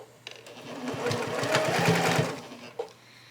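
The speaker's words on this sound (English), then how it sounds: "Now you're ready to start sewing there." A sewing machine stitches a miniature quilt in one steady mechanical run lasting a few seconds. The motor hums up and then winds down, with a close, moderately loud rapid needle rhythm and a small click at the end.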